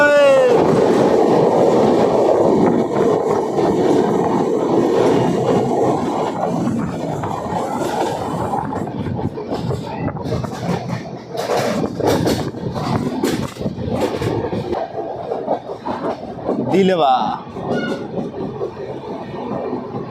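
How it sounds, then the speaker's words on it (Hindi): Danapur Koderma Intercity Express rumbles steadily along the rails through Jharkhand, with a continuous roar, rhythmic clickety-clack of wheels over joints and brief metallic squeals, while someone speaks over the noise. "ट्रेन झारखंड में एंटर हो चुकी है और इस ट्रेन का 3rd केव अब एंटर करने वाली है हमारी इंटरसिटी एक्सप्रेस"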